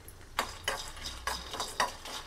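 Dried red chillies roast in a pan for a brinjal curry as a spoon stirs them, giving a soft sizzle broken by four or five distinct scraping strokes at a steady pace.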